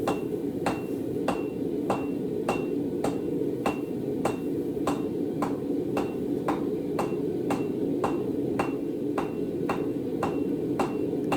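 Steady hammer blows on an old steel bolt, flattening the divots left by a nut, land in an even rhythm of roughly two strikes per second over a constant low hum, close and clear with no talk.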